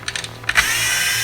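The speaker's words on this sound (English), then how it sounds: "these 4 screws that I'm taking off right now are the smaller in length" A power screwdriver whirs in a few short bursts and then runs steadily, backing out small screws from a Toyota Prius multi function display, close and loud.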